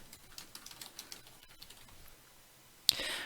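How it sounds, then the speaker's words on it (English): Computer keyboard typing nearby, a quick run of light key clicks that slows and fades, followed by a brief sharp click and soft hiss at the end. "We can type my comment in the margin."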